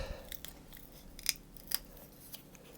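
Polystyrene sheet being cut out with scissors for a printing stamp: a series of crisp snipping and crunching cuts, close and fairly quiet, with two sharper snaps in the middle.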